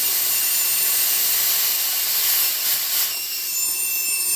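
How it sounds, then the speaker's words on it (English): A steam cleaner hisses continuously while cleaning a car in a Mustang restoration shop, a loud, steady high-pitched spray with a slight dip partway through and no talking. "Just steam cleaning everything"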